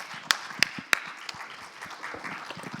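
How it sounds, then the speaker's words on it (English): A panel audience at a heat-resilience and sustainable-cooling session applauds, faint and thin, with a few sharp, distinct claps standing out over a soft, steady patter. "can you join us into actually clapping and thanking"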